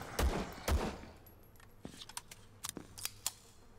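Enemy gunfire in the shooter game Vladik Brutal: two heavy close shots open, followed by a scatter of sharper, quieter cracks and impacts in irregular bursts.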